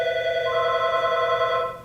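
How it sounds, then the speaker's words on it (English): Telephone ringing with a steady electronic tone, one sustained ring burst that holds evenly and then cuts off, clear and close with no speech over it. "Phone's ringing."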